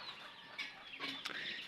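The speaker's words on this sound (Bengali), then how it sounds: "দেখেন মুরগিগুলো ক্যারা ক্যারা ক্যারা করতেছে" Chickens, some reportedly sick with colds after rain, cluck in a repeated, raspy chatter at close range, with no one speaking.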